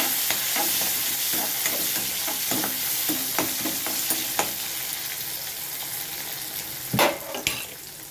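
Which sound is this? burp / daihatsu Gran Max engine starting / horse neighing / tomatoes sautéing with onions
tomatoes sautéing with onions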